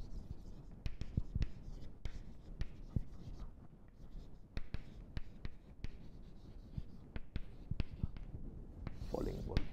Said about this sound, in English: I will just write it here.